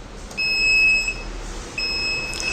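An Arduino buzzer on an emergency braking robot sounds two steady, shrill electronic beeps, each roughly a second long with a short gap between, over faint room noise.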